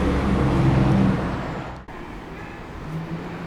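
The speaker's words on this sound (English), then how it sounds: "Traffic is so dense here." Dense road traffic along a detour near newer buildings on the Cooks River path in Sydney, heard as a loud steady roar of passing cars and heavier vehicles that drops briefly and then continues at a lower level.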